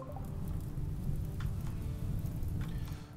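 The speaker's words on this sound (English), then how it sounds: "Okay, it's raining, thank goodness." Steady rainfall in the Rimworld video game, a soft constant patter on the ground with a faint rumbling undertone, heard on its own without talk.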